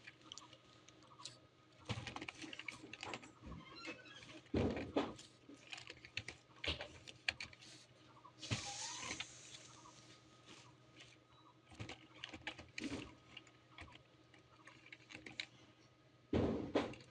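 Fast, close typing on a computer keyboard sets down a heading as text is entered, with irregular bursts of key clicks, short pauses between them and a few louder taps.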